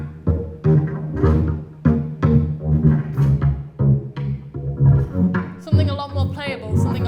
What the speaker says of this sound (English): I just made it into an arpeggiated synth sample track,